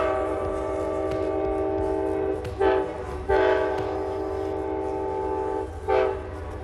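An approaching Amtrak Carolinian passenger train led by a P42DC diesel locomotive sounds its loud multi-tone horn in three blasts, the middle one longest, over a steady rumbling background near a grade crossing.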